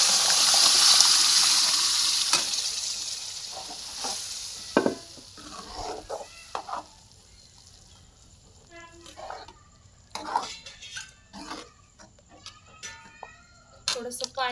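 Cooked dal poured into a hot tadka for chicken dalcha, a loud sizzling gush at first that fades, followed by intermittent stirring and scraping in the pot.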